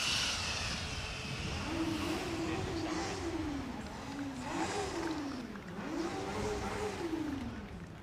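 A Formula Student race car on an acceleration run: its engine note rises and falls in repeated swelling sweeps over a steady outdoor rumble, moderately distant and without talk.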